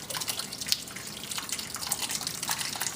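Whey pours into a colander, splashing steadily with quick dripping and trickling, close by and continuous, no voices.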